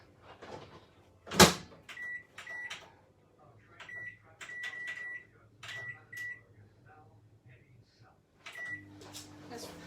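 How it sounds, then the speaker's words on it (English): Kitchen microwave oven being loaded and set for heating: a loud clunk of the door, then a run of short electronic button beeps and chimes, with quieter handling noises and a low hum building toward the end. "So I'm going to ping this in the microwave."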